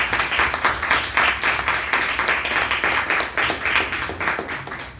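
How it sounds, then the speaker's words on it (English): A meeting audience gives a loud, sustained round of applause, dense rapid clapping from many hands close by that holds steady for about five seconds before easing slightly. "really thunderous round of applause."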